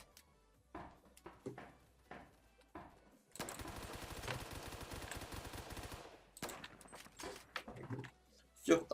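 A gun fires a rapid automatic burst in Phantom Forces: a close, steady rattle of about three seconds, framed by quieter scattered sounds and someone talking before and after.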